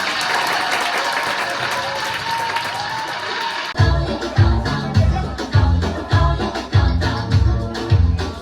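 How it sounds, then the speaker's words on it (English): An audience at a community newcomers dinner in Canada claps steadily in a dense, sustained burst. The clapping stops abruptly partway through, and loud rhythmic music with a heavy beat takes over. "Can I hear hand clap?"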